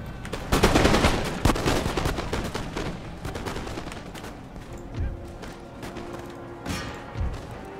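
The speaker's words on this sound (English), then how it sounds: "Fire at will with my light infantry." A ragged musket volley from light infantry firing at will in the strategy game Empire Total War, a burst of overlapping cracks that thins into scattered, fainter shots over battlefield noise.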